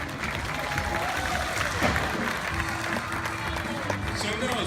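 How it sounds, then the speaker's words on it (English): Audience clapping steadily at the Odin's Temple of the Tiger show at Six Flags Discovery Kingdom, a dense, continuous wash of applause lasting the whole moment, with a presenter's amplified voice talking over it. "Another round of applause for Aasha"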